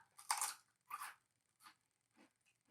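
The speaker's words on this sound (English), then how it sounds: "Nice and crispy. You hear that crunch?" Avocado-oil-fried barbecue potato chips crunch under chewing, close and crisp, in four or five separate bites that grow quieter, each spaced about half a second apart.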